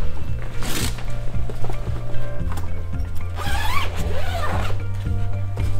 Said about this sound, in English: Zip down both sides.